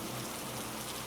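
Steady rain falls continuously, a dense, even hiss of drops hitting surfaces with no pauses, no voices and no other sounds.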